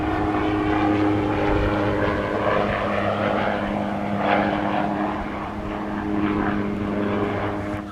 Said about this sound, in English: I never realised there's a little runway here for small planes.